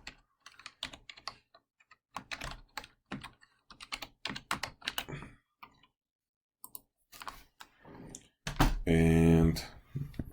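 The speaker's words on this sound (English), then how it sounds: "Let's just type this up." Rapid typing on a computer keyboard, bursts of close clicking keystrokes with short pauses, ending in a louder clattering flurry.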